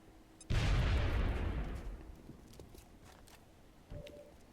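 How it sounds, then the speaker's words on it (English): A grenade detonates in the XCOM strategy game with a sudden loud boom and a long rumbling tail that slowly fades, followed by a brief softer blip near the end. "Throwing grenade."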